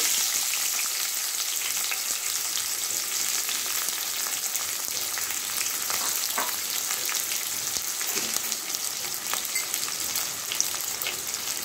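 Chopped onions and dried red chillies with bay leaves frying in a pan give a dense, continuous close sizzle with crackling spits throughout, without any talk.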